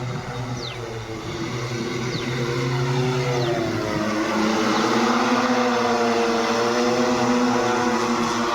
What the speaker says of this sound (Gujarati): જુઓ તો છે ડ્રોન દવા માટે સારો એવો ભાઈ